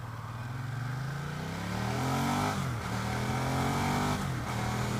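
The engine of a 2015 Ducati Diavel Carbon motorcycle revs up in steady climbs, with a sharp shift as it drops back before climbing again, sounding close and fairly loud with no talking.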